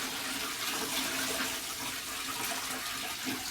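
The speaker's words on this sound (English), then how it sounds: "and you just fill the tank." Tap water pours steadily into a new fish tank over gravel and decorations, making a continuous rushing, splashing sound at an even level with no voices.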